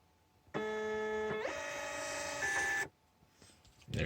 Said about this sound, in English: here's an Amazon FBA label printing.